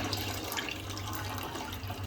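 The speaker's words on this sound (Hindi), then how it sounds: "मैं दूध छान के डालूंगी इसमें।" Milk poured through a strainer into tea in a home kitchen, giving a steady, soft liquid trickle that runs continuously for about two seconds, close by and fairly quiet.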